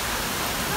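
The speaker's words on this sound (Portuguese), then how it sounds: "se liga o tornado chegando, olha isso. Dá pra enxergar o vento, gente, por causa da quantidade de água." Hurricane Irma lashing down as a dense, steady roar of wind-driven heavy rain, a broadband hiss with no breaks through the whole short stretch.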